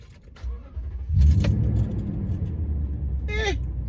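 A Toyota Tacoma engine, already warm, cranks and catches, then settles into a steady idle rumble, with a brief jingle of keys near the start.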